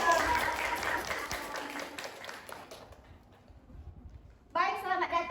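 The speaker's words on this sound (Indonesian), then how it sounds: "Beri tepuk tangan untuk narasumber kita pada" An audience at a podcast recording applauds its guests with a dense patter of clapping that fades out over several seconds, then a voice begins speaking.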